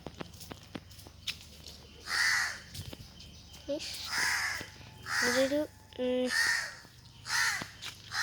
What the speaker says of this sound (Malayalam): കാക്കയുണ്ട്.